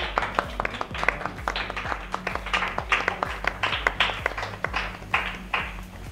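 Studio audience clapping at a televised Eid ul Azha celebration show, welcoming a singer onstage, with dense, fairly steady applause and sharp individual claps over a low musical backing.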